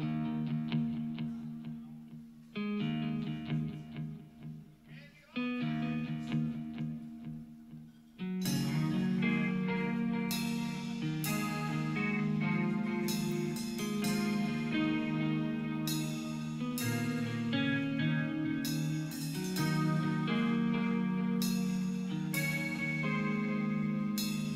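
Electric guitar, played live in 2018 through effects, starts with sparse chorus-tinged chords broken by pauses, then swells into a sustained, distorted full-band passage with bright repeated accents over a dense, steady wall of sound.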